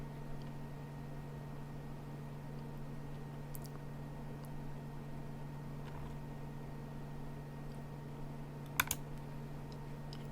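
Button clicks from a keyboard widget: a few faint, isolated taps, one near the middle and a sharper double click toward the end, over a quiet steady hum.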